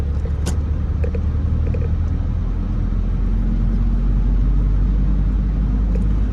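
Steady, loud interior rumble of a car driving and turning through a residential neighborhood in Birmingham, Alabama, with constant low road and engine drone and a few faint clicks.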